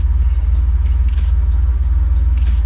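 A Lexus GS300 engine catches and keeps running close by, a steady, heavy low rumble with faint ticking on top and no break for the whole stretch.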